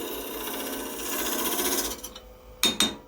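Steady, raspy sanding noise on a maple kuksa cup runs for about two seconds, then stops, followed by two short scraping bursts.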